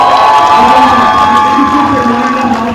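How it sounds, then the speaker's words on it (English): An audience cheers and applauds for the cast of a play, a dense close wash of crowd noise with shouts and whoops layered over steady clapping. "I think it's time to give these guys a few applause."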